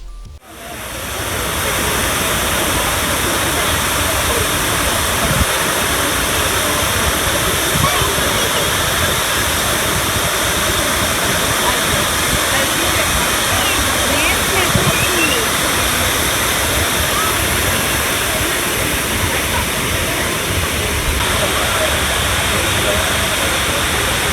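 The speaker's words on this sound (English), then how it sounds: "everything was silent except for the sound of rushing water." Heavy rushing water roars continuously from a memorial fountain in New York City, a broad steady wash like a large waterfall, close and unbroken for the whole stretch.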